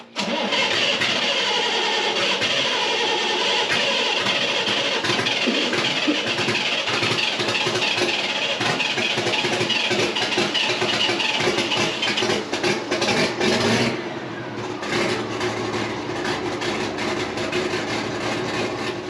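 A farm machine's Mercedes motor runs steadily and loud, with a dense, continuous mechanical roar that dips briefly partway through before carrying on at near-constant level.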